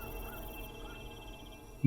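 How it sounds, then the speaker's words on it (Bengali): Crickets chirp at night near a village cremation ground, a thin, steady, pulsing trill held over a faint low hum, ending in a sudden louder burst. "সর্বক্ষণ জেগে থাকে ঝিঝি পোকাদের এক টানা আর্তনাদ"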